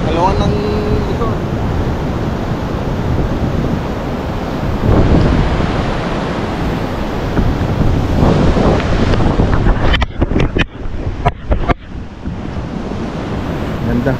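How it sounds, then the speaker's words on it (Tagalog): Strong storm-driven sea waves surge and crash along the Pangasinan coast, a continuous roar with gusts of wind buffeting the microphone and a few sharp rumbling bursts near the end. "So bumabagyo kasi mga boss, kaya malakas yung alon ng dagat"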